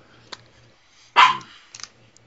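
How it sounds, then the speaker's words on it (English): A dog gives a single sharp bark that is fairly loud and moderately near, with a couple of faint clicks before and after against a quiet background. "that dog's pissed off about it too"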